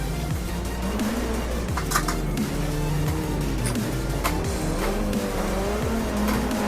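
A rally car in Richard Burns Rally on the LongYou SSS stage slides and bounces through deep ruts, its engine droning steadily while tires squeal and scrabble over loose ground throughout.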